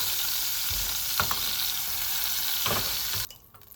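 Fried prawns lifted out of hot oil, a loud continuous sizzle and crackle with a few scraping strokes from the utensil, close up, ending abruptly in near quiet.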